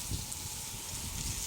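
Steady rain falls outdoors on a village lane in Thailand, an even broadband hiss of drops with faint low rumbles, continuous and moderately close, with no voices.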